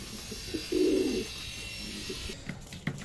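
A racing pigeon just back from a race coos once in a low throaty burst, close by, followed by quieter rustling and faint clicks in a calm setting.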